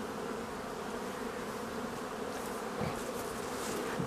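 Honeybees hum in a dense, steady drone over an opened Warsaw-type beehive in an apiary in spring, close and continuous with no talking.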